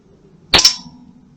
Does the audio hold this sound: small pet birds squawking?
no